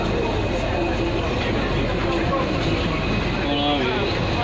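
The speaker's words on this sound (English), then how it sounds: "The lovely steam train." Steady low rumble and rattle inside a steam train carriage running on the line between Amersham and Harrow, with passengers talking over the continuous rolling noise.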